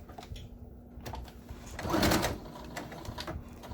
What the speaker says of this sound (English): we're going to stitch this in place, okay, to hold it in place